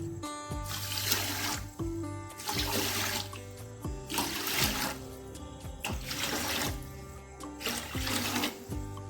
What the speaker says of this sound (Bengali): ঠিক সেই বাটি মেপে আমি এখানে জল দিয়ে দিচ্ছি